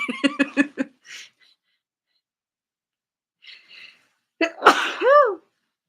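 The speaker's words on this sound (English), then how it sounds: "I have a sneeze coming." A few short, rhythmic breathy gasps and quiet sniffs lead into one loud, close sneeze with a drawn-out vocal tail.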